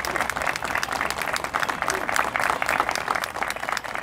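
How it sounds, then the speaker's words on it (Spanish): An audience at the inauguration of a town's new radiology room applauds steadily and densely for a visiting doctor who is a son of the town, a full room's clapping sustained throughout with some voices mixed in. "Mantengamos el aplauso."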